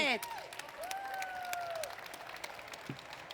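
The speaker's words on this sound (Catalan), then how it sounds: "Vinga, un aplaudiment." A cooking-demonstration audience gives a short round of applause, soft scattered clapping heard at a distance and fairly quietly, with a brief voice at the very start.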